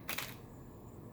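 A single soft DSLR shutter click, quick double-clack of the mirror and shutter, close but quiet against a low room hum, no talking.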